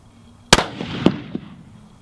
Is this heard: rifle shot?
yes